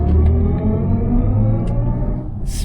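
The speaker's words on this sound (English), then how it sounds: "when you accelerate you can hear those sounds. They give you a sort of feeling of spaceship driving" Inside a BMW i4 electric car under acceleration, a loud low rumbling drive sound fills the cabin, with rising synthetic tones layered over the road noise and no voices.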